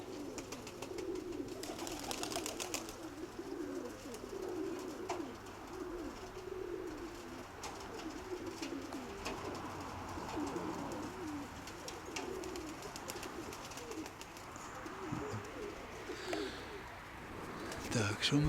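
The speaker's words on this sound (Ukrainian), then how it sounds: "Я бачу вгорі ще голубів" Pigeons cooing close by, repeated soft rolling calls overlapping one another, with occasional rustling and flutters in the background.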